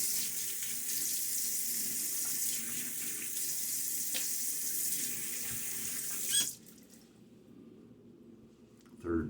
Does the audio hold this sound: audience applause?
no